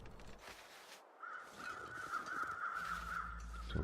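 Crows caw in The Long Dark, a few harsh repeated calls at moderate distance over a low wind-like background rumble, with no talking.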